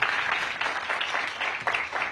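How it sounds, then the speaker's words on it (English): An audience at a charter school building inauguration claps in a steady round of applause, moderately loud and continuous throughout. "Let's give her a big round of applause."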